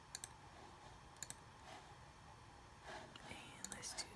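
Faint computer mouse clicks, a few sharp single and double clicks spread across a quiet room, with soft whispered speech in between.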